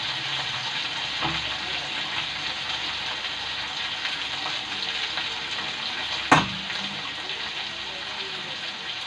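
Cauliflower and paneer fry in hot oil with a steady, dense sizzle throughout, close by, broken by one sharp clatter partway through.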